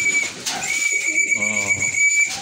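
Pigeons kept as stock birds for sale coo and call close by, soft repeated cooing with a brief whistle-like note, over a steady background of bird noise.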